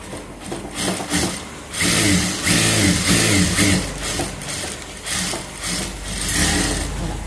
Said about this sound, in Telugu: ఒక స్టిచ్ చేద్దాం.